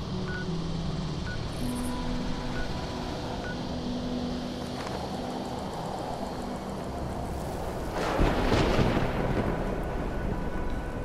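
Thunder from a lightning strike cracks and rumbles loudly in Fallout 76, breaking over steady rain and wind ambience with a short, intense burst before settling back.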